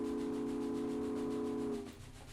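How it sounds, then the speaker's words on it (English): A steam locomotive whistle in the Trainz Simulator 2 video game holds one long, steady tone with a breathy hiss, then cuts off abruptly near the end, leaving soft background noise. "So there's the steam exams and, of course, the whistle."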